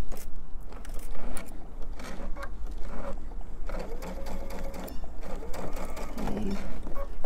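A sewing machine runs close and loud, stitching an elephant stuffed animal, its rapid mechanical chatter continuing nearly nonstop with small pauses and handling noises.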